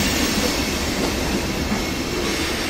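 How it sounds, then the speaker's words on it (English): A very long freight train rolls past on the rails, a loud, steady roar of wheels and rattling cars that carries unbroken through the whole stretch. "That was a long train."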